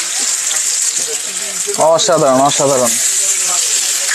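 Rupchanda fish and eggplant fry in a little oil on an electric roti maker, giving a steady hiss and sizzle throughout while someone speaks briefly over it.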